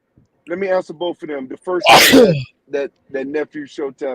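A single loud, sharp sneeze bursts out between stretches of close conversational talk, with someone speaking before and after it.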